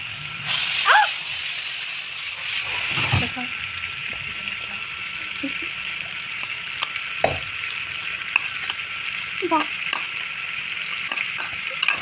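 Garlic and onion hit a hot pan for a home-cooked pork dish, with a loud burst of sizzling that settles into a steady lower hiss, while scattered clinks and brief voices sound over it.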